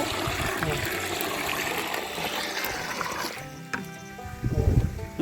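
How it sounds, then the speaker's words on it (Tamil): Water is poured and stirred into jeevamrutham, an organic farm fertilizer, making a continuous close trickling and sloshing that fades near the end into a few thuds and a brief low bump. "ஜீவாமிரதத்துக்கு தண்ணி ஊற்றி கலக்கிட்டு இருக்காங்க"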